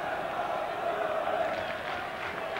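Football crowd at Southend's stadium in Essex on a sunny match day, a steady distant murmur of many voices with faint cheering, continuous and fairly quiet.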